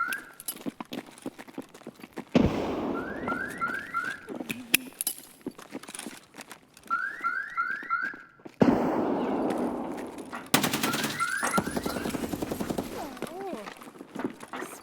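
A grenade blast in Escape From Tarkov, a sudden loud broadband boom that hits hard and lingers with rumbling debris, amid other game noise and people talking over it.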